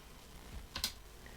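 A short burst of computer keyboard typing, a few soft clicks with one sharper keystroke near the end, faint and close over a low steady background hum.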